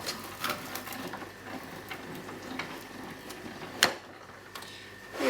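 A hand-cranked fabric die cutter for applique petals turns with a soft, repetitive ticking and clicking, quiet and close, with a sharper knock near the end.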